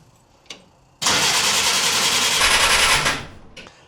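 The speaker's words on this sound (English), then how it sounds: "I'm not going to go too crazy cranking it for long periods of time. That's bad for the starter" A 1950 Willys M38 jeep engine, not started in 15 years, cranks on its starter in one loud, close, steady whirring burst of about two seconds that then trails off, with faint clicks before and after.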